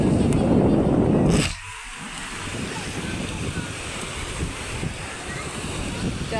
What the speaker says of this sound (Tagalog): malakas po dito ang hangin